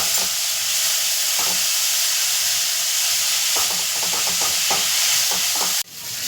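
Chopped vegetables for bottle gourd soup sizzle in a hot pan, a steady hiss of frying broken by repeated scraping and clinking of a spoon as they are stirred, ending abruptly.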